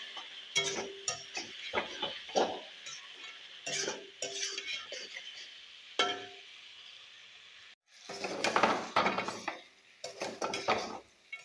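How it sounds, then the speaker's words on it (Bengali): Cumin, ginger and green chili get stirred in a pan, giving repeated metallic scrapes and clinks of a utensil against the pan, close and irregular, with a short pause before a busier burst of stirring. "এখানে জিরা আদা কাঁচামরিচ দিয়ে দিলাম দিয়ে ভালো করে নাড়িয়ে দিলাম"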